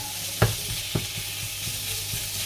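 Meat and onions cook in a pan on a home stove, giving a soft steady sizzle with two brief stirring knocks near the start and faint scraping taps throughout, no talking.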